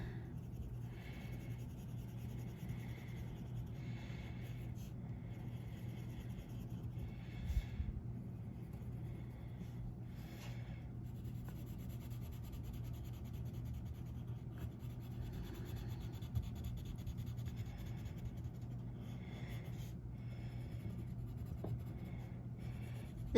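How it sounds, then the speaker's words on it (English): Colored pencils rubbing across textured watercolor paper, a faint, continuous scratchy scribbling with short strokes and pauses, close and alone. "the color pencils are definitely going to pick up all that texture of the watercolor paper."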